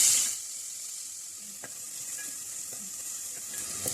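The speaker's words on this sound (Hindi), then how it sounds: "जैसे ही ऑयल गर्म होता है तो जो हमारे पास सॉफ्ट प्याज है इसको ब्राउन कर लेते हैं।" Soft onions browning in two to three tablespoons of hot oil for stuffed potatoes give a steady, fine sizzle with a few light stirring clicks, close and moderately quiet, with no talking.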